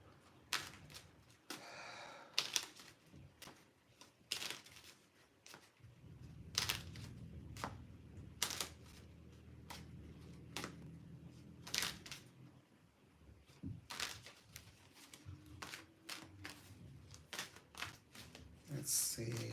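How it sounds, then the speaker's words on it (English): Tarot cards being shuffled by hand, a run of crisp riffling bursts and slaps at irregular intervals, close up, with a low murmur of talk and handling noise in between. "I have to get my cards shuffled."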